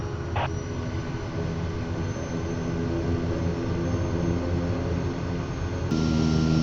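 A Kodiak 100 single-engine turboprop rolls for takeoff from a remote airstrip, its engine a loud, sustained roar that holds steady and swells slightly near the end, with no talk.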